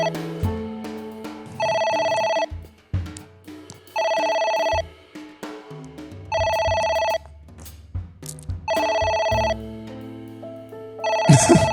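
A phone rings in the video game A.I. The Somnium Files, a melodic electronic ringtone repeating in five regular bursts about every two and a half seconds over soft background music, no talk.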